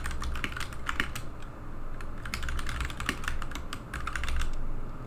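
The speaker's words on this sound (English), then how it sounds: "open up the terminal and type in this command" Typing a command on a computer keyboard: quick irregular key clicks in short runs and pauses, close and fairly quiet, with no voice.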